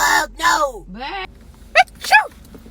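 A person lets out a single abrupt sneeze close by, a short burst after a few moments of talk, with a second quick vocal burst following.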